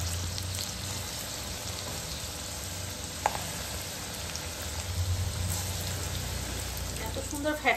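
Fulori fritters of whipped batter frying in hot mustard oil give a steady, close sizzle that runs throughout, with a brief sharper crackle partway and a few louder pops near the end.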